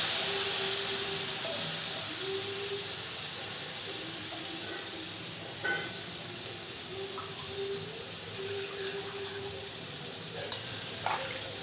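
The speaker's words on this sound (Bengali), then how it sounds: "কড়াইটা গরম করে মাছটা দিয়ে দিলাম" Marinated fish fries in a hot kadai of oil, a continuous close sizzle and hiss with faint clinks and a sharp tap near the end.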